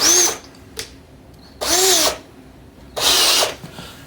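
A power drill fitted with a 1/4 inch bit bores a hole during bicycle fender work, running in three loud, close bursts of rising whine with short quiet gaps between them.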